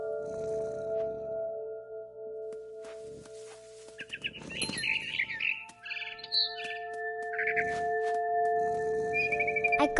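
Bird chirps and calls from the video game What Remains of Edith Finch ring out in short bursts near the middle and end, over a steady tonal ambient background.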